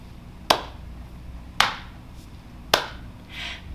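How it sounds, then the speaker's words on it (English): Three sharp, evenly spaced percussive hits of hands tapping and clapping along to a nursery rhyme, each crisp and close with a quick decay, followed by a softer rustle. "We're going to do a tap, clap, tap,"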